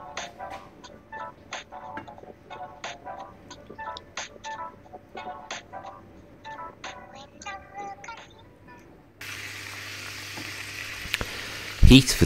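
Beef cubes frying in hot oil in a frying pan give bursts of crackling sizzle at first, then settle into a louder continuous hiss with a final sharp clatter.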